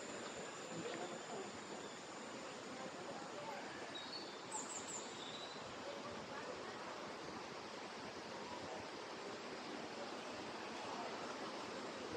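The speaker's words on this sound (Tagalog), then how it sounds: "Naririnig ko na yung agos ng tubig." Flowing water rushes in a steady broadband wash, with faint bird calls and a brief high chirp partway through, heard from a moderate distance with no clear speech.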